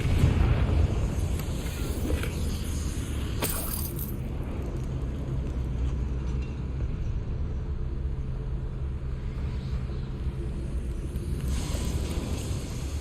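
Fiery blasts and deep rumbling from the Confringo spell in Hogwarts Legacy, a steady roaring explosion bed with a brighter burst partway through, loud and dense throughout.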